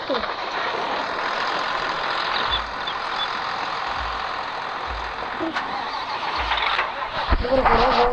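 A tractor engine cranks and turns over repeatedly in short starter bursts, then rises toward running, loud and close, with people talking throughout.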